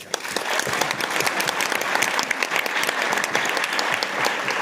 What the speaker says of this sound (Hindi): अब ताली क्यों बजे?